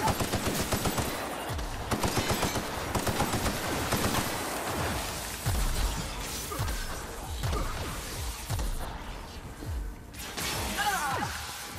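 Sci-fi gunfire in the video game The Outer Worlds: dense bursts of automatic fire and sharp impacts, loud and continuous, with crashes and mechanical clatter mixed in during a frantic firefight.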